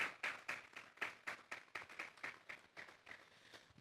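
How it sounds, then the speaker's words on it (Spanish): A small church congregation claps in a fairly steady rhythm, faint and roomy, with around a dozen distinct claps gradually thinning out. "Vamos a darle un fuerte aplauso pues al Señor esta mañana"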